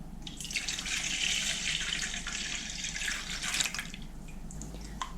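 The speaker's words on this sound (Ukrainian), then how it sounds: "вливаю 300 мл тепленького молока" Warm milk, 300 ml, pours into dissolved yeast for a sweet Christmas bread dough, a soft, continuous liquid trickle and splash lasting several seconds, close and fairly quiet, with no speech.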